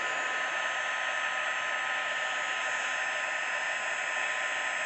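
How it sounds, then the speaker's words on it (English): Embossing heat tool blowing hot air in a steady, unbroken whoosh, close and loud, holding the same broad hiss for the whole stretch with no voices. "just heat up your heating tool and then start again"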